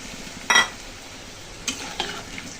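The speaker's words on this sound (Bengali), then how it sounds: "এই জলটা দিয়েও আমি আলু কষিয়ে নেব অনেকক্ষণ ধরেই" Potatoes cooked down with spices and a splash of water in a pan, a low simmering sizzle broken by a few sharp spoon scrapes and clinks against the pot.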